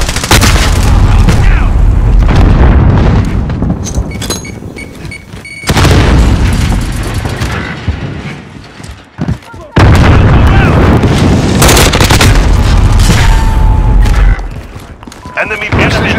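A missile airstrike in Call of Duty strikes with repeated deep, loud booms, separated by short lulls, amid chaotic gunfire and game voice callouts.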